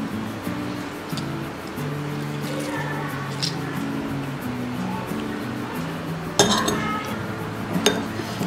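A spoon clinks and scrapes against a bowl while stirring sugar into lemon juice, with light repeated taps and one sharper knock partway through over a faint background hiss.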